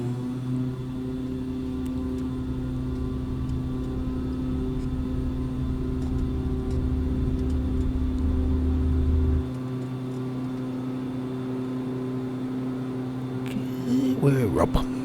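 A default King Air twin turboprop taking off in a flight simulator, heard as a steady droning engine hum with layered tones, that drops off sharply partway through before a brief rattling clatter near the end.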